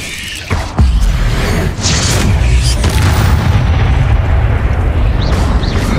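A Confringo explosion spell in Hogwarts Legacy sets off a loud booming blast that swells into a continuous heavy, rumbling roar with creaking debris, holding steady for several seconds.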